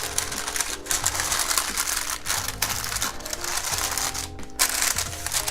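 Parchment paper edges folded over fish for a papillote, producing a steady close crinkling and crackling with small clicking creases throughout.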